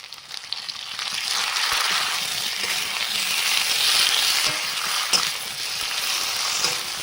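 Gandal leaf paste with cumin-coriander paste fries alongside potato and papaya in a kadai, a bright close sizzle swelling and easing under occasional stirring and a few light clinks.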